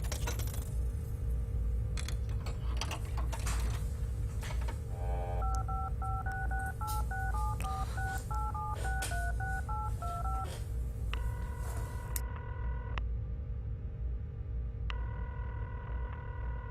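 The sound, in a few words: telephone dialing tones in video game Serious Sam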